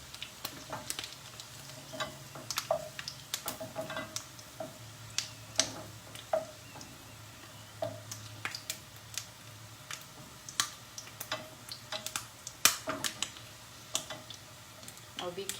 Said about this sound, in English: They sometimes like splutter a little in oil.